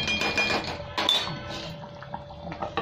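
A metal lid set onto a pot of simmering Bengali curd fish curry on a gas stove, giving a few bright clinks and clatters close by over a faint bubbling background.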